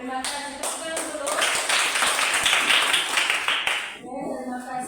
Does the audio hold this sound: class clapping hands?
yes